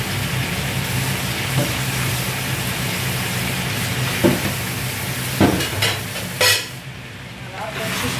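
Mushrooms stirred in a frying pan: a steady close sizzle runs throughout, broken by a few louder scraping stirs near the end, with no talking.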